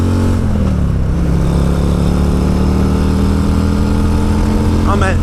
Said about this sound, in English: Twist that throttle.